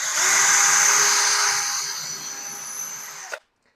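A power drill drives a screw into wood, whirring steadily at high speed for about three seconds, its pitch dropping slightly as it bites in, then stops abruptly into silence.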